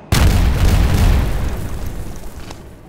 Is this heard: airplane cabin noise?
no